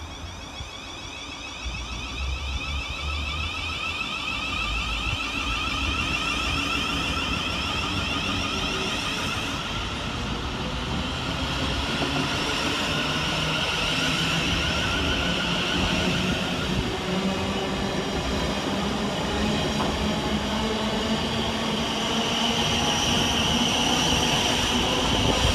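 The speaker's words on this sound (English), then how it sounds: "the final train of the session is 700 121, working the 11:01 Govia Thameslink service from Brighton to Bedford" A Class 700 Govia Thameslink electric train, unit 700 121, passing through Three Bridges station on a Brighton to Bedford service, a continuous loud rolling rumble and whine that holds steady and builds slightly toward the end.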